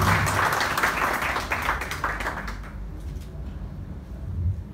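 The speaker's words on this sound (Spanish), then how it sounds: "Votos de aplausos para él." An audience at the opening ceremony of Ica's table-grape export season bursts into dense clapping that holds for a couple of seconds, then thins and fades away.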